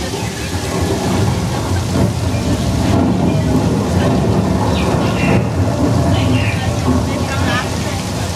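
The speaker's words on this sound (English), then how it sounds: "Once we add those thunder sound effects and lightning courtesy of a strobe light." Heavy simulated rain from sprinklers pours down at a studio rain demonstration, a loud constant hiss layered with rumbling thunder sound effects and some voices in the background.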